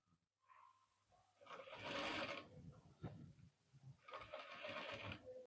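A sewing machine stitches a ladies' coat in two quick mechanical bursts of rapid whirring. Quiet handling sounds fall between the bursts.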